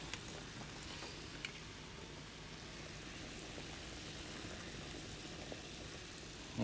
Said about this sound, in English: You want that water pretty aggressively boiling.